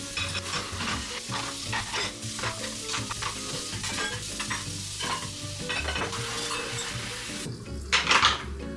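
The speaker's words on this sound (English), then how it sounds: "my dish pile has grown quite a bit, so let's clean these up" Plates, pots and cutlery clatter and scrape as a large pile of dirty dishes is washed in a home kitchen, with running water hissing throughout and a louder clank near the end.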